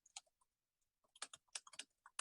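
Typing on a computer keyboard during incident handling, with irregular bursts of quick key clicks, near and fairly quiet, and no talk over them.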